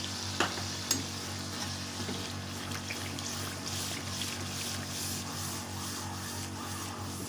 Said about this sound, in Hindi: दही शामिल करने के बाद अच्छे से चम्मच से मिक्स करेंगे।